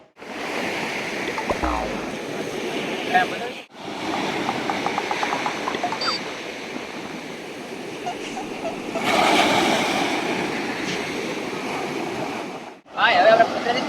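Sea waves wash onto the shore in a steady, moderately loud rush that swells and fades, with wind and people talking over the surf.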